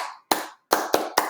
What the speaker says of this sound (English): doing a call and response clap